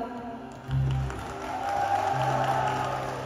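An audience claps and cheers at a live folk fusion concert. The applause is soft and diffuse, a wash that swells partway through under sustained musical tones from the stage, with nobody speaking.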